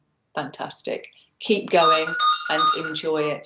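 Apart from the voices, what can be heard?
mobile phone ringing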